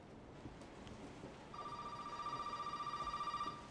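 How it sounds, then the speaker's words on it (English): A telephone rings in a horror video game set near an attic, with a steady repeating electronic trill starting partway through over a dim, rumbling background, sounding close yet slightly distant. "Man, the phone ring, it sound like it's come, it sound close, but it's not really close."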